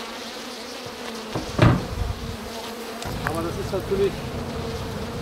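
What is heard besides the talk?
honey bees buzzing at an opened hive in spring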